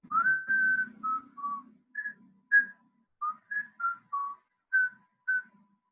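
A person whistles a simple tune alone, a series of clear short notes and brief held tones with small pauses between.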